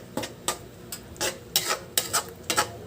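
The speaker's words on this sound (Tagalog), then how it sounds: "So kailangan halo-haloan ko lang muna ang bahagya." Egg being stirred into sarciado in a pan, with about seven sharp utensil scrapes and clinks against the metal at an irregular, unhurried pace. No one speaks.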